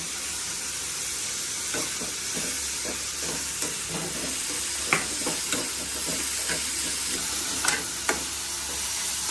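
Curry leaves and spices are sautéed for a mutton gravy, with a continuous sizzle and hiss under irregular scraping and clinking stirs of a spoon in the pan.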